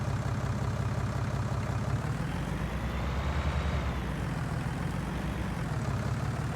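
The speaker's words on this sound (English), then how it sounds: "Enter to start the engine." Tractor engine in Farming Simulator 19 running at idle, a steady low rumble that shifts and swells partway through before settling back, close and loud with no voices.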